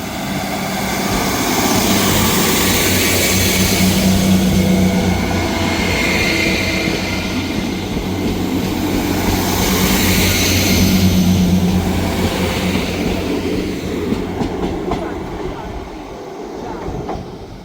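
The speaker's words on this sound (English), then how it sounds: "This is the 1644 ScotRail service from Leven to Edinburgh Waverley." A ScotRail passenger train pulls out of Dalmeny station on a Leven to Edinburgh Waverley service, a loud sustained rumble and rail roar that swells twice before fading near the end.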